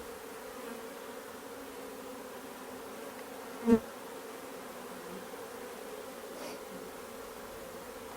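Honey bees buzz steadily around a five-frame nuc being moved into a new eight-frame hive, a soft continuous drone with one brief louder thump midway and no talking.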